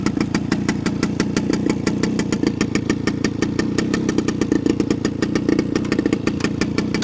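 A motorcycle engine idles steadily and close by, its rapid even pulses continuing unbroken throughout with a slight mechanical clatter and no talking.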